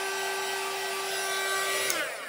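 A heat embossing gun blowing hot air onto a round card, a steady whining motor drone with airy rush, close and continuous, then a slight shift near the end.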